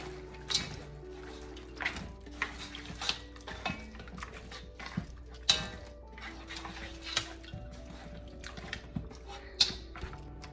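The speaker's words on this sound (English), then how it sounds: "And then I stir it in there." A spoon stirring sun-dried tomato and garlic paste into a simmering Jamaican oxtail and goat stew, giving irregular soft clinks and scrapes against the pot over a quiet background.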